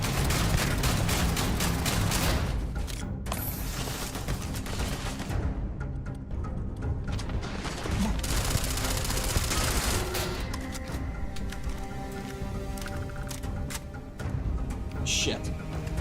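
Heavy gunfire rattles in Starfield, with a dense, continuous stream of rapid shots and bursts that stays loud and close for the whole stretch.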